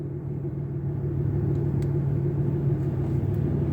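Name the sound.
2018 RAM 2500 truck rolling into shop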